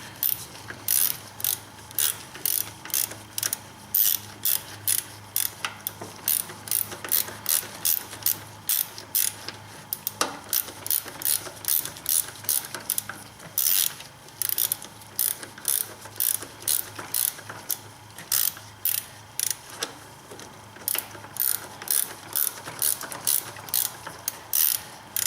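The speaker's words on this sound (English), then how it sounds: "taking this deflection pulley out would be a prerequisite to removing the tensioner" Rapid ratchet clicking from a wrench loosening the deflection pulley bolt on a BMW E46 engine, a steady close stream of sharp ticks in quick bursts with brief pauses, no talking.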